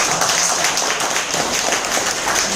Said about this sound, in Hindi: मनीषा बहन के लिए जोरदार तालियां।